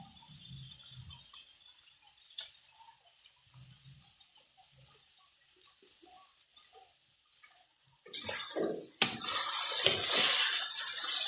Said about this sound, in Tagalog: konting sabaw para sa konting tubig